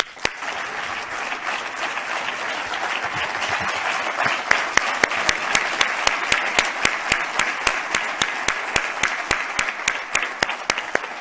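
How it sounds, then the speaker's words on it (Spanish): Sustained audience applause at a Basque business awards gala honoring award winner Aitor Zumárraga, a dense wash of clapping that grows fuller and brighter midway, with a run of sharp, regular clap accents near the end. "Un aplauso para el señor Zumárraga."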